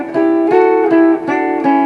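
Two guitars play harmonized major-scale sequences together, rising through five notes and returning, each note sustained in a smooth, even rhythm with clear overlapping harmonic lines.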